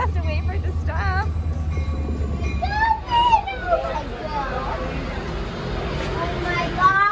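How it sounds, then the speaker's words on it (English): The Western Maryland Scenic Railroad train pulls into the station at Frostburg, Maryland, its steady rumble rising and wheels squealing, while children and adults chatter excitedly nearby. "Here is our train."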